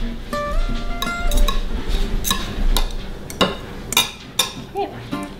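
Cooked squirrel meat from an Instant Pot squirrel-and-rice dish is pulled off the bone, giving close, scattered clinks and scrapes of utensils against a pot alongside soft wet handling noises, with brief speech between them.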